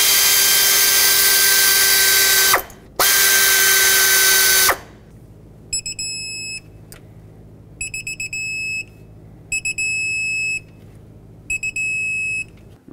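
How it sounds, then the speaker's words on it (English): An air ratchet drives bolts on a 5.4L Ford F-150 engine during a head gasket job, with two long loud whirring runs followed by a series of short, sharp bursts with pauses between. "I'm gonna use my air ratchet to drive it in just so it can go a little faster."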